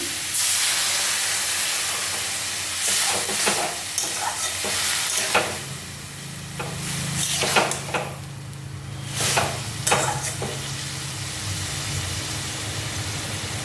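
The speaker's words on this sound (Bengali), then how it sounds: "এখন একটু জল দিয়ে দিচ্ছি।" Greens cook in a hot pan as water is added, setting off a loud burst of hissing steam and sizzle, with repeated stirring and scraping of a spatula, close and without talk.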